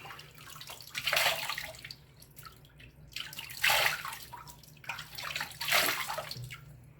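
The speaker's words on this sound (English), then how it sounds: "Okay, a little rinse." A straight razor being rinsed under a running tap: three separate splashing bursts of water a couple of seconds apart, close by over a faint low hum, without talking.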